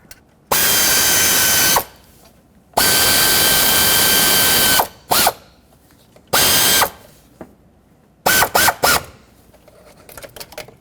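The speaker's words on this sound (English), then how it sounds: "Bottom these out and then torque them to 89 inch-pounds." Thermostat housing bolts on a 2009-2019 Ford Flex engine are run down with a powered ratchet in several loud buzzing bursts, followed by a few short clicking ratchet strokes as they are torqued to spec.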